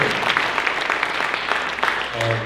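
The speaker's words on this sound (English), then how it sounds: "A round of applause from the Keene Jazz Orchestra." Applause from an audience at a jazz orchestra concert, a dense wash of clapping held at an even level, with a brief low tone near the end.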